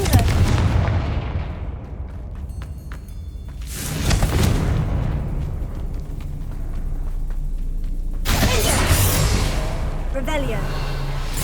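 Repeated Confringo blasting spell explosions in Hogwarts Legacy, three loud booming blasts spaced several seconds apart, each with a sharp crack and a rumbling tail over a steady low background.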